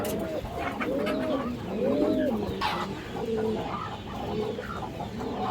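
Domestic pigeons at a pigeon seller's loft, including fancy breeds, coo in repeated rolling phrases, several birds close by and overlapping, with a brief rustle midway and no talking.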